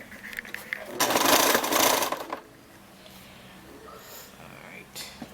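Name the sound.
sewing machine stitching a fabric seam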